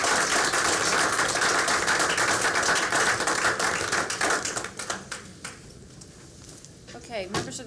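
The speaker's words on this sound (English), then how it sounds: "Give a round of applause for these fine employees." Round of applause for school employees at a district school board meeting, dense clapping from the room that holds steady for about five seconds, then thins out into a few scattered claps and room noise.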